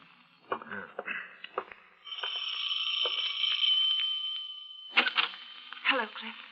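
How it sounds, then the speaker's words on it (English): A doorbell rings, sustaining for a couple of seconds, with voices talking before and after it. "before you answer the doorbell"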